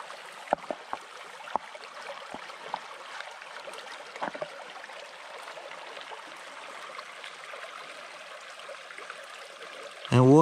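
Water running through a gold sluice box while prospecting in northeast Tasmania, a faint, steady outdoor trickle with scattered clicks and knocks, ending in a sudden louder burst.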